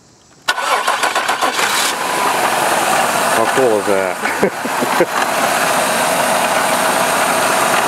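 A supercharged GM 3800 L67 V6 engine cranks and catches after a half-second of quiet, then runs loud and steady at a rough idle while someone talks over it.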